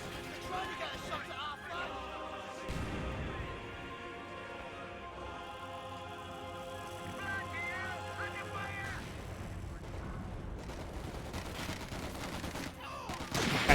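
MG42 machine gun fire in the Company of Heroes 2 battle erupts in short rattling bursts, with scattered gunshots behind them. A narrator talks over the bursts throughout.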